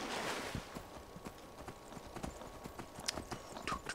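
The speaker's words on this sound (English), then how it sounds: "So let's ride Horsey." A horse's hooves clip-clop steadily in Skyrim as the rider travels through wilderness, a quiet, even rhythm of hoofbeats heard alone.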